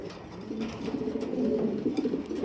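Pigeons coo repeatedly, low throaty burbling calls close by, with quiet background noise and no talking.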